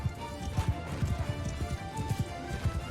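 Horse hooves gallop in the medieval game Mount & Blade 2: Bannerlord, a rapid, steady clip-clop rhythm up close over a busy battle backdrop.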